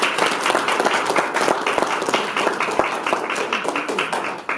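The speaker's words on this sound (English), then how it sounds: "Please give her a round of applause." Enthusiastic crowd applause at a humanitarian awards conference, honoring Reverend Mother Ajayi, with dense, steady clapping filling the room throughout and some voices mixed in.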